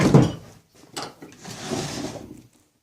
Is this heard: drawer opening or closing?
yes